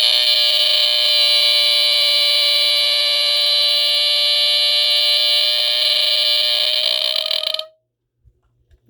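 A loud, piercing electronic Entronic Vigilante Z-1000 smoke alarm squeals continuously with a warbling, modulated tone, then cuts off abruptly, leaving near silence.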